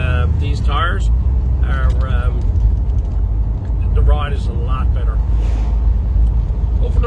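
A car rolls along a road on Coker tires, its steady engine and tire hum running continuously beneath someone talking throughout.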